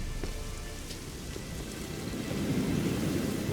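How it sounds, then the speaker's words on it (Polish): Rain falls steadily in The Witcher 3 with a low rumble of thunder beneath it, the downpour swelling louder toward the end, with no voices over it. "Bez przerwy tylko nic pada i pada w Wiedźminie 3."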